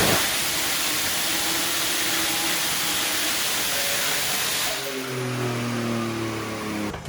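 BMW E36 on a chassis dyno, the engine roaring at a steady high load with hissing broadband noise that shifts near the end into rising tonal whines as the clutch slips under full power.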